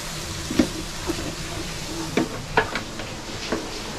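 Peanut and coconut modak filling being stirred in a pan on a low flame. Soft scraping strokes and faint sizzling come at an irregular pace, close up and without talk.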